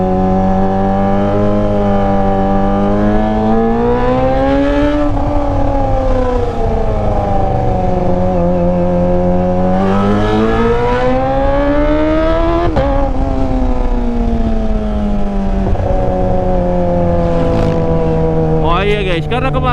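A Kawasaki ZX25R with a LeoVince LV10 underbelly exhaust screams close by, revving repeatedly to its limiter in long rising and falling sweeps, a loud, high-pitched four-cylinder wail that stays up throughout.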